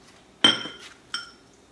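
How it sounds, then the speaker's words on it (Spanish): Spoon clinks against a bowl while batter of milk and sugar is stirred for apple pancakes, two sharp, close metallic taps about half a second apart over a quiet background. "Y mezclamos todo muy bien."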